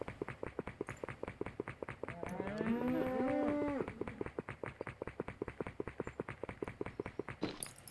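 Cows moo in a farming video game: a loud drawn-out low bellow in the middle of the clip over a steady rhythmic looping game soundtrack of repeated beats.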